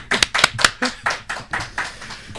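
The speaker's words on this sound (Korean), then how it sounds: "박수 소리가 작아." Thin, rhythmic clapping from a few people in a broadcast studio, with roughly ten distinct claps at an even pace, close and fairly loud, with no talking over them.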